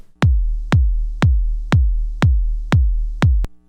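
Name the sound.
kick drum made on Make Noise DPO oscillator and Maths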